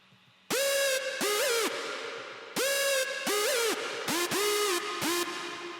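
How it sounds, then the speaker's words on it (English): A bright, buzzy square-wave synth lead plays alone, a run of sustained notes with pitch bends and slides, clean and upfront with short gaps between phrases. "there's another lead coming, which is more of a square lead"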